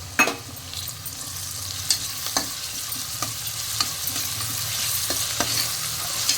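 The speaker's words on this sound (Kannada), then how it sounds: "ಶುಂಠಿ ಬೆಳ್ಳುಳ್ಳಿ ಪೇಸ್ಟ್ ಹಾಕ್ಕೊಳ್ಳಿ." Onions with ginger-garlic paste fry steadily in a pan, a continuous sizzle broken by repeated spoon scrapes and taps as the mix is stirred, with no talking.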